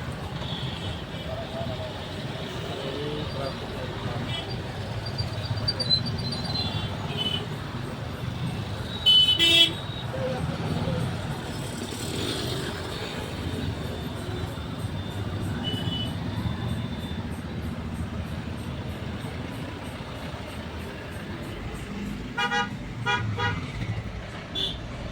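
Heavy road traffic in Hosur with engines rumbling and repeated car and truck horns honking near and far, a dense congested din with voices talking beneath it.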